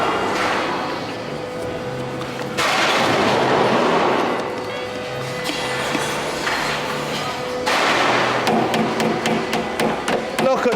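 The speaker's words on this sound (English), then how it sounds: "Now, if we give this a good shake." A scrap metal pipe packed with sand and dirt is shaken in a scrapyard, giving a loud, continuous gritty rattle and rushing scrape in long surges, ending in a run of sharp metallic knocks.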